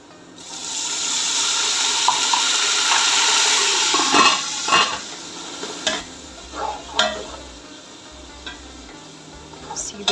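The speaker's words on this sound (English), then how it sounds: "we'll be adding water" Water pours steadily into a hot cooking pot of fried onions for beef pulao for a few seconds, hissing and sizzling, then tapers off into scattered bubbling, clinks and stirring.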